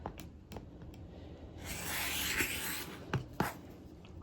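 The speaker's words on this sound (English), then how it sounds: "we're going to take our ruler, flip it over, line it up with the edge of our paper, and we're going to trim off all of the excess" Paper and fabric are trimmed along a ruler for foundation paper piecing. The sound is a quiet, close scraping and rubbing stroke, with a few soft taps and clicks near the end. Nobody speaks.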